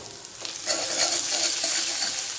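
Spiced onion paste with chili powder frying in oil in a pan, a soft steady sizzle that swells after a brief quieter start, close and continuous with no talking.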